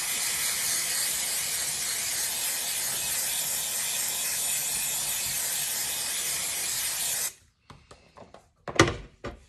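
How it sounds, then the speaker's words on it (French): An aerosol can of craft spray glue hisses in one long, continuous, close spray for about seven seconds, then stops, followed by a few faint clicks and handling rustles. "je teste la colle spray glue qu'on trouve au rayon bricolage de chez Action"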